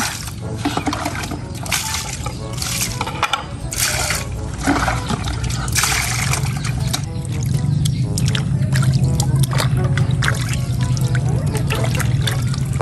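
Water poured and splashing over fresh tuna being washed outdoors for sinigang, a continuous close, loud pouring and trickling with irregular splashes throughout, no talk.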